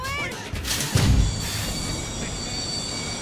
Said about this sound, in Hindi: ओए ट्रेन चल पड़ी